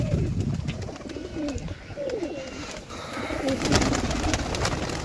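Several old local desi pigeons coo repeatedly in soft, overlapping calls, close by, with a steady background hum and occasional rustling.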